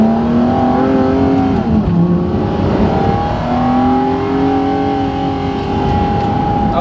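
Inside an Aston Martin One-77 with a V12, a loud engine drone with shifting tonal whines fills the stiff cabin, rising and falling steadily as the car drives, with no talk.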